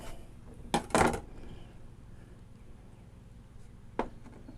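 A kitchen knife chopping through a large squash while seeds are saved: two sharp knocking cuts close together, then one more thunk a few seconds later, each a short hard strike against a board over a quiet background.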